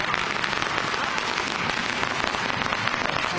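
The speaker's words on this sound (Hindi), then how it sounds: "कार्यकर्ताओं को पटाखे चले" Firecrackers bursting at an outdoor political election rally in India, a dense continuous crackle of rapid pops filling the air at steady loudness, with no pauses.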